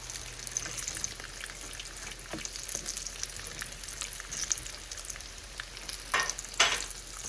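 Zucchini slices frying in a pan, a steady crackling sizzle with scattered pops and a few brief scraping stirs near the end, close and fairly quiet.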